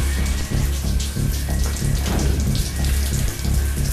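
Firefighters' hoses pour water steadily onto a burning thatched roof, a dense continuous splashing and hissing spray with a low rumbling undertone, no voices.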